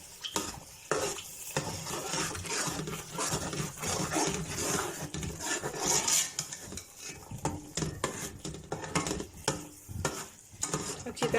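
A spoon scrapes and clinks in a pan as crushed red chilli and oil are stirred into mustard greens saag, with an uneven, rhythmic scraping over a light sizzle.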